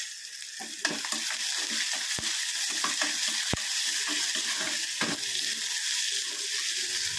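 Salted mango pieces and curry leaves sizzle steadily in a hot pan, a close, continuous frying hiss with a few sharp crackles and pops breaking through.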